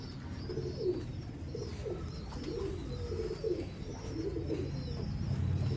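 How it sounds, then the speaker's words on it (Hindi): A rare male pigeon coos in a series of soft, throaty calls repeated at a relaxed rhythm, close by over a constant low background hum. "ये है नायाब कबूतर।"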